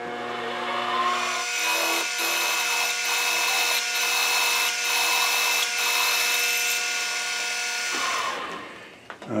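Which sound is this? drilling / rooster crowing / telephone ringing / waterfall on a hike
drilling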